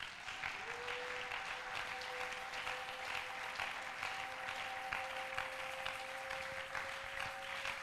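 A church congregation applauds in a steady, sustained wash of clapping, with a held organ or keyboard tone ringing beneath it throughout.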